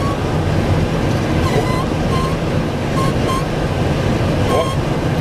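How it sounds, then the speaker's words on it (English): Strong wind of about 50 mph buffets the microphone in a steady, dense roar without letup, with a voice talking faintly underneath. "Boy, the wind is really pushing. It's about 50 mile an hour winds right now"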